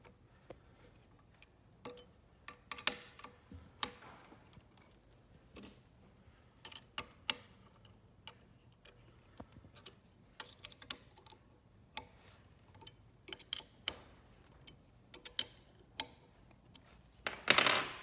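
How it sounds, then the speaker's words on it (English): Screws are tightened on a Dangan cutting blade, producing scattered small metallic ticks and clicks at irregular intervals over a quiet background, with a louder clatter at the end. "Then tighten the screws."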